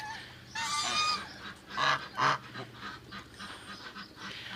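Farmyard geese honking in a series of loud nasal calls, several close overlapping honks in the first half and softer ones after, with a low steady background hum.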